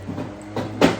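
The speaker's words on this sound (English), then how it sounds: "I'm also gonna knock over your cup." A coffee cup knocked over on a table, two brief close clatters in quick succession over quiet room tone.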